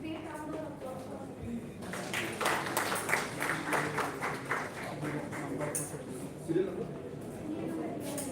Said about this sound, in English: Great round of applause for